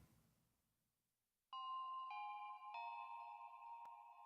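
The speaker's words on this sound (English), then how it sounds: "This is like bells." Bell-like synthesizer tones for a lofi beat, with bright reverb: after a faint lead-in, clear sustained chime notes enter at a quiet level, new struck notes layering and ringing on, with no voices over them.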